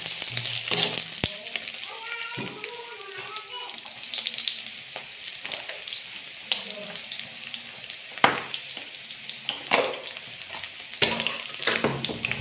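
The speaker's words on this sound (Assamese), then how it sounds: "পিঁয়াজখিনি ব্ৰাউন কালাৰ নোহোৱালৈকে ভাজি থাকিম ল' ফ্লেমত।" Onions fry in a pan over a low flame in a home kitchen: a steady, gentle sizzle, broken by occasional stirring scrapes and light utensil clinks, with no talking.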